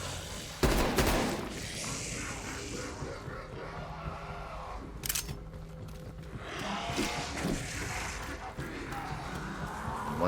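Gunshots in the Call of Duty zombies map Die Maschine, fired at small blue target orbs around a room: a sharp, loud shot early on and another a few seconds later over a busy game backdrop.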